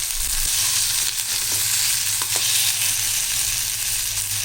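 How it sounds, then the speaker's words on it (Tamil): Chili, garlic and tomato sauté in a pan for a tomato-peanut chutney, giving a dense, continuous sizzle with faint stirring scrapes and no talking. "இப்போ இந்த மிளகா, பூண்டு, தக்காளி இது நல்லா கொஞ்சம் வதங்கின பிறகு"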